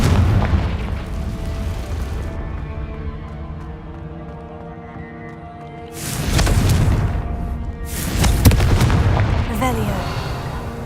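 A Confringo blasting spell in Hogwarts Legacy erupts in two loud, booming explosions a couple of seconds apart, each with a broad roaring burst that trails off over a quieter rumbling background.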